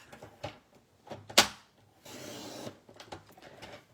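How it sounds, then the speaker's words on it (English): Paper cut to measured sizes for a folded card, with light scrapes and taps, one sharp crisp snap from the cutter, then a longer sliding swish of the blade along the paper, quiet and close. "then we're going to cut it at these measurements here"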